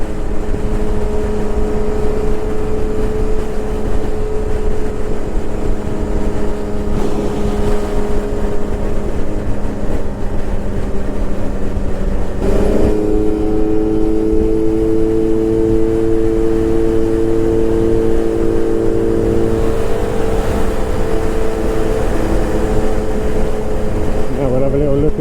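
A group of scooters rides together and picks up speed at an outdoor rideout, with steady droning engine tones that rise in pitch partway through under constant wind rush.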